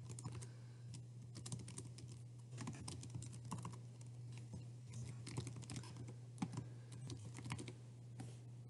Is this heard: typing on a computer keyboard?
yes